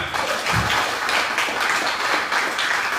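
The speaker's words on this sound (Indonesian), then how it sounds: "Sekali lagi tepuk tangannya yang meriah" An audience applauds at an association chairman's installation ceremony in Balaraja, Tangerang, with sustained, fairly loud clapping from many hands throughout.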